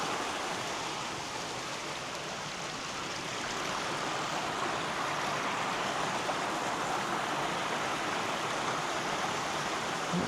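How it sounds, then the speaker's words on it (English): A small waterfall splashes steadily, giving a continuous broad rushing wash of falling water that stays even and fairly close, with no voices. "Nice little waterfall area."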